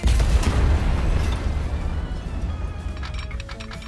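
A tunnel entrance is demolished in the game Transport Fever with a loud, deep explosive boom that rumbles and slowly decays, leaving a lingering crackling tail.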